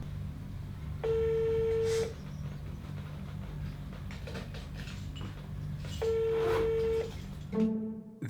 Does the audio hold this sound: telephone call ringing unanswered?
yes